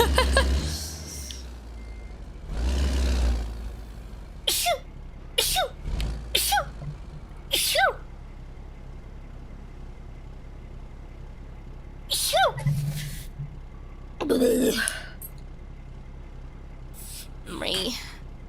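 A streamer sneezes indoors against a quiet background, giving a short, sharp burst that stands alone before talk resumes.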